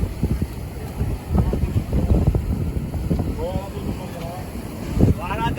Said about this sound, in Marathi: वारा तर हा वारा तर एकदम सुसाट आहे